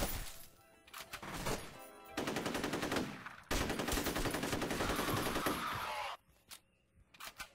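Loud bursts of automatic gunfire from the F.E.A.R. video game, several long sustained volleys with brief gaps between them and no voices.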